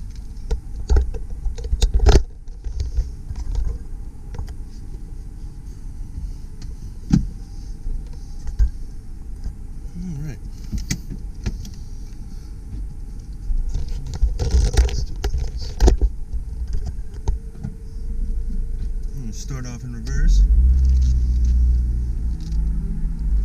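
A 1997 Honda Civic Del Sol with a 5-speed manual on a test drive: a low engine rumble and cabin noise with occasional clunks and scrapes, rising to a louder steady drone near the end.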